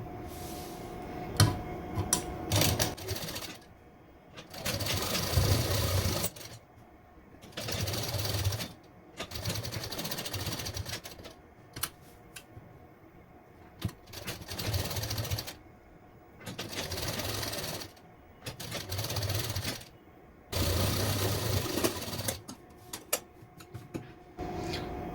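A sewing machine stitches a simple suit in repeated bursts of rapid mechanical whirring, each run lasting a second or two and separated by short pauses, close and fairly quiet.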